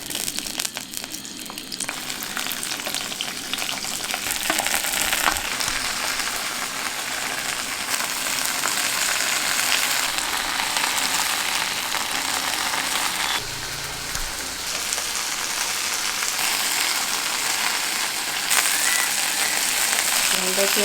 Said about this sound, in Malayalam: എണ്ണ ഒഴിച്ച് വെണ്ടയ്ക്കയും പച്ചമുളകും കൂടെ വറുത്തെടുക്കാം